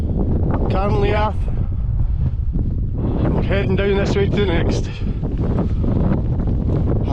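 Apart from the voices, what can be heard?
strong wind on mountain top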